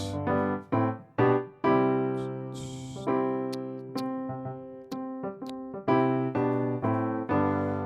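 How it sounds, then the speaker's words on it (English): Piano chords step downward one after another, sustained and ringing, with a brief noisy burst midway; no talking. "Just walking back down with the same chords."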